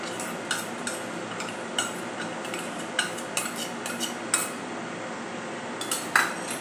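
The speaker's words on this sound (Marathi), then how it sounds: "आता हे सर्व मिक्स करून घेऊया आणि पुन्हा एकजीव करून घेऊया" A Govinda ladoo mixture is worked together with ghee in a vessel, with a run of light spoon clinks and scrapes against the metal sounding close and clear, and no talk.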